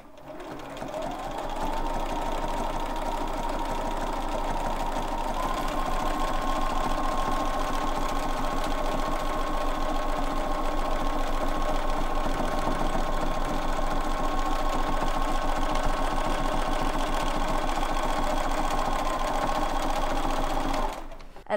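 A sewing machine stitches a quilt-as-you-go block with a feather design, a steady, close whirring hum that runs almost unbroken for about twenty seconds, with no talking over it.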